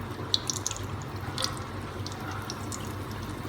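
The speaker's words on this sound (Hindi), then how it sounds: "मैं इसको कढ़ाई में इसलिए फ्राई कर रही हूँ कि ये दोनों साइडों से एक जैसी ही फ्राई हो जाए।" Aloo tikki frying in a kadhai gives a steady, close crackle of oil with a few sharper pops near the start, continuous and without talk.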